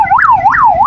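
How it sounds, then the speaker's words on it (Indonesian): An ambulance siren wails loud and close with a rising-and-falling sweep repeating about every third of a second, as the ambulance drives against traffic, heard alone. "ada ambulan lawan arah kawan-kawan."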